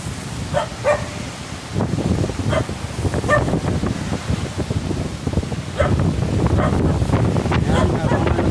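Strong typhoon wind from Typhoon Ulysses roars continuously against the microphone during flooding, a loud rushing buffeting with rain noise, a dog barking and voices talking underneath.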